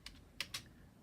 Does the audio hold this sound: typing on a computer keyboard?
yes